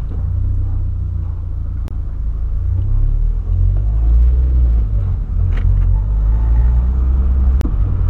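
A steady low engine rumble fills the cabin of a moving car, loud and continuous with road noise, a few faint clicks and no talking.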